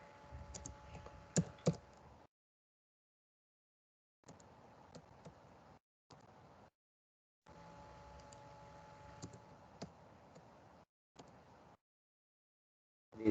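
Double quotes are typed on a computer keyboard in several separate bursts of quick, close key clicks, with silent gaps between them and a sharper knock at the very end.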